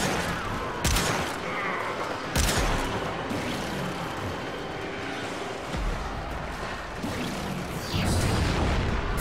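Weapon alt fire in the Warframe video game, with several sharp broadband gunshot bursts spaced over a dense, loud bed of continuous game noise, no talking.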